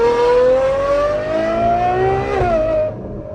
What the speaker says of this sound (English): This unlocks everything that you think about when you think about the sound of a Ferrari. Listen to that.